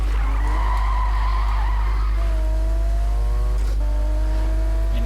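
A Toyota Supra drifting in the Need For Speed 2015 video game, its tires skidding and squealing in long, loud screeches over a low engine drone, with a brief break before the squeal resumes.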